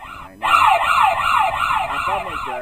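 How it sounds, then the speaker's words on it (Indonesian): Wailing emergency siren from a moving source in a Doppler effect animation, rising and falling in steady repeated sweeps, loud and continuous after a brief quieter start. "apabila sirine menjauhi pengamat"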